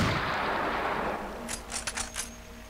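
Sniper rifle fire in the shooter game Unreal, heard as a handful of sharp cracks in quick succession near the end, preceded by a loud wash of broadband noise.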